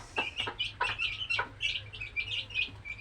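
Pet chickens clucking while being fed their midday meal, several birds giving short, repeated clucks and chirps close by, with steady low background rumble underneath and no talking.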